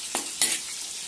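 Quick bursts of sizzling as asafoetida hits hot oil in a pan over a medium flame, two short crackling flares that settle into a soft, steady fry.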